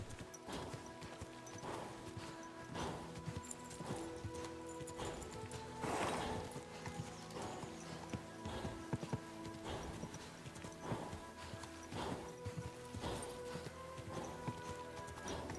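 Horse hooves galloping in the game Kingdom Come: Deliverance, a steady rapid clip-clop of repeated hoofbeats throughout, fairly close, with an occasional whinny and no talking.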